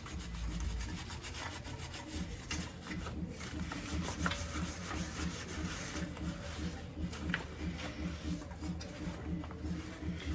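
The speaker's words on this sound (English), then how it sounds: "Now you only want to scrub for about a minute or so." Bar Keepers Friend cleanser scrubbed onto an estate sale find, a steady close rubbing and scouring rasp of even back-and-forth strokes continuing throughout, no talk.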